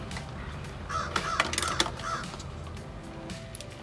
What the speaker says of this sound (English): And I guess the crow's out there now too.